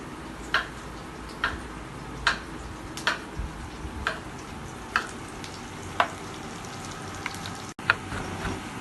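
Onion cooks in a pan under a low, steady sizzle, broken about once a second by sharp, regular ticks of a utensil against the pan.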